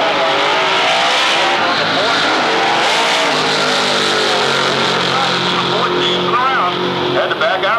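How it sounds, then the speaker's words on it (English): A 1972 Chevy Nova and a 1989 Ford Mustang run a Super Street drag race at Atlanta Dragway in Commerce, Georgia, their engines roaring loud and sustained with tire squeal, under an announcer's commentary. "West side the Nova takes the wind light, 942, 145 from Ferguson, who had some problems off the line, but managed to drive by the Ford"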